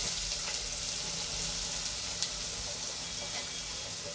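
Shallots and a crushed ground paste frying in hot oil with mustard seeds, giving a steady close hiss and sizzle with faint crackles and pops and no voices.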